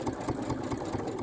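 A sewing machine runs steadily along the 5/8 inch side seam of a pinafore, giving a close, even mechanical hum with a fast regular stitching pulse.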